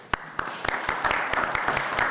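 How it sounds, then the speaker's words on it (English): Audience at a township board meeting breaking into applause, sharp individual claps starting sparse and quickly building into steady, fairly close clapping from a small crowd, with no talk over it. "So I want to actually applaud you guys for coming in"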